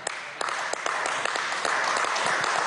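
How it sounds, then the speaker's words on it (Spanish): Crowd applause at a Venezuelan corn flour production plant event, a continuous wash of clapping with individual sharp claps standing out, fairly close and steady throughout. "un aplauso desde aquí."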